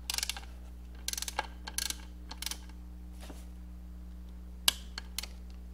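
Torque wrench ratcheting on LS6 engine valve-spring bolts, heard as close, quiet clusters of crisp clicks in short bursts with pauses between, over a steady low hum.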